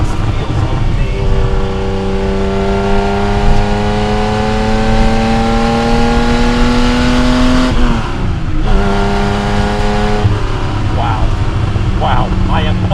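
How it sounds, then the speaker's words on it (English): A Porsche 911SC coupe's flat-six engine pulls hard and loud through a corner, its pitch climbing steadily, dipping briefly under braking and a shift, then rising again in a sustained, close-miked roar. "Hard braking coming into the corner, load up the front, accelerate through the apex."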